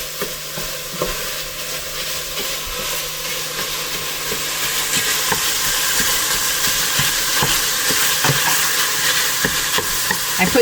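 Breakfast sausage seasoned with Italian herbs browns in a pan, giving a continuous dense sizzle with steady frying hiss that swells slightly louder partway through, marked by occasional faint stirring clicks.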